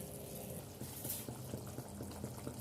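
Tomato and soy sauce mixture poured into a hot pan while cooking roadside-style mushroom dish, a soft steady bubbling sizzle with a few brief gurgling pops, fairly quiet and without talk.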